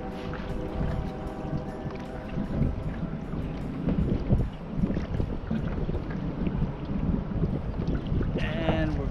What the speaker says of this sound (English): And we're back to a headwind.